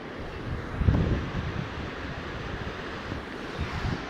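River water rushing beneath a bridge at Vijapur, a steady broad wash of flowing water with wind buffeting the microphone, fairly loud and continuous with a brief surge near the start.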